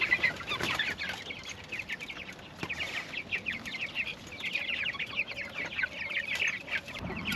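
Several chickens cluck and chatter in short, overlapping bursts throughout, close by, with no talking.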